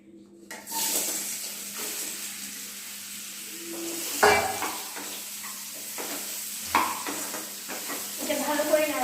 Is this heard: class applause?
no